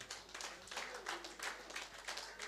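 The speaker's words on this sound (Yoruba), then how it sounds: "Alàgbà, ẹ jẹ́ ká pàtẹ́wọ́ fún wọn." Audience applause at a Yoruba book presentation honouring an elder, a steady wash of many hands clapping for a couple of seconds, moderately loud and continuous.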